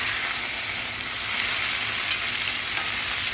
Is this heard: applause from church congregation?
no